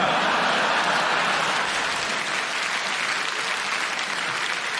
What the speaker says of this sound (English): I do love I get a round of applause always